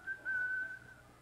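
A single steady whistled note, held for about half a second, clear and fairly close, with faint background hum.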